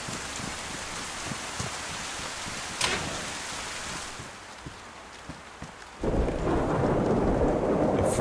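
Heavy rain and thunder from a thunderstorm in the DayZ survival game on the Livonia map, a steady wash of rainfall with a rumbling thunder crack near three seconds and the downpour swelling louder toward the end.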